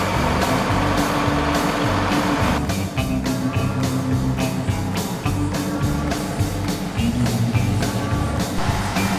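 A road grader rumbles steadily up a road toward a station, a heavy diesel drone with clanking and intermittent beeps, loud and continuous throughout.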